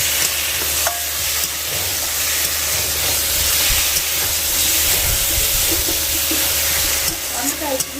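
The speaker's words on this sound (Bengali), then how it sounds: "তো এবারে আমি মশলাটাকে কষিয়ে নেব খুব ভালো করে" Spice paste (masala) is stir-fried in a pan on a double stove, giving a continuous loud sizzle with faint scraping of stirring throughout.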